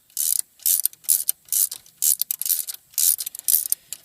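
A ratchet wrench turns a thread tap inside a BMW M52tu/M54 engine block during a thread repair, giving close, sharp clicking bursts in a steady back-and-forth rhythm with short pauses between strokes.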